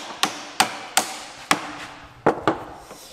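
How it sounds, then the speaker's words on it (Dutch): Six or seven sharp metallic taps from a small hammer while assembling an M29 Weasel undercarriage model, spaced unevenly with short pauses, close and crisp against a quiet background. "even een hamertje tikken"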